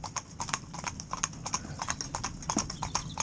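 Horse hooves clip-clop steadily on a road as a tandem pair passes, a brisk, even rhythm of sharp knocks heard close and fairly clear with no talk over it.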